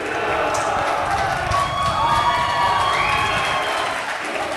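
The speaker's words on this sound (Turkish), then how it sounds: "alkışlıyor şu an." At an American football second-league final, fans of the rival team clap and cheer together in a loud, continuous crowd roar, with shouting and talk mixed in throughout.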